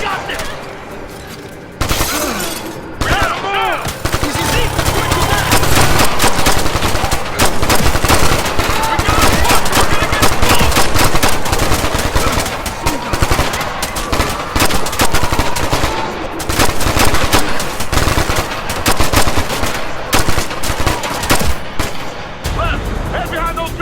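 Sustained heavy automatic gunfire and explosions from a combat video game, loud and continuous throughout, with players shouting commands over the din.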